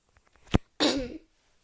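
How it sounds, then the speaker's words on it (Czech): A man sick with a cold gives two harsh coughs, a short sharp one and then a longer raspy one, close and loud, with quiet room tone around them. "Omlouvám se za to kašlání."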